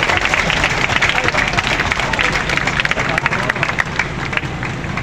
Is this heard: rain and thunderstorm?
no